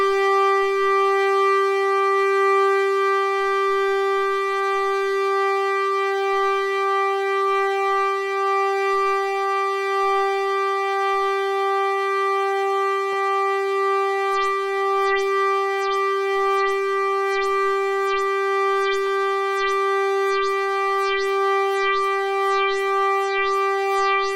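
An Arturia MiniFreak synthesizer drone holds a bright, harmonic-rich tone; partway through, a cycling envelope on the filter cutoff starts rhythmic sweeps pulsing at the top, cycling faster and faster.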